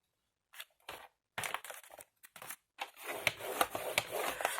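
Scissors snip through folded paper in a few separate short cuts, then a longer stretch of crisp cutting and rustling, close by and moderately quiet, with no talking.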